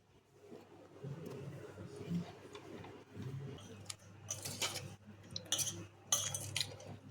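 Mango pickle being stirred in a jar for a summer vadu mangai, giving scattered clinks and scraping taps that grow busier toward the end, over a low steady hum with a little background talk.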